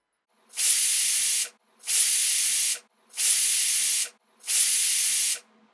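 Four evenly spaced bursts of loud hissing steam from a pressure cooker whistling over a medium gas flame while cooking mushroom curry, each lasting about a second with brief silences between them.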